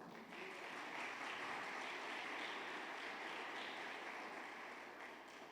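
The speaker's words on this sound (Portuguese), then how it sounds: "Você pode aplaudir o Senhor?" A church congregation applauds together during a sermon, a dense, sustained wash of clapping from many hands that holds steady throughout with no voices over it.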